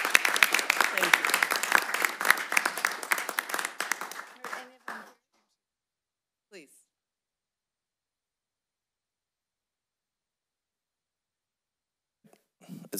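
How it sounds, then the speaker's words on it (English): A crowd applauds at a transit district board meeting, dense clapping for about four seconds that tapers off into silence, with a few faint sounds afterward. "Maybe a round of applause for their service."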